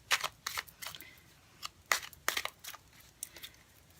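Quick papery riffles and soft slaps of a deck of tarot cards being shuffled, in irregular bursts with short pauses, close and fairly quiet.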